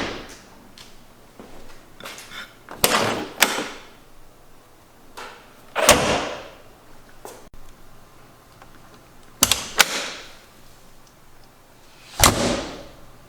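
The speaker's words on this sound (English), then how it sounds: "one of my favorite things about the car is the sound the doors make" Heavy Hummer H1 doors opening and closing, a series of solid thuds and metallic latch clunks spaced a few seconds apart against a quiet background.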